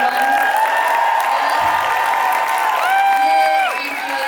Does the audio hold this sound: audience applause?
yes